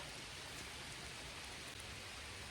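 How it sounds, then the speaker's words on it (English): Steady rain falling at a lake, a dense, even hiss of drops on water and ground, constant and close throughout with no other sounds. "I'm here at the lake in the rain"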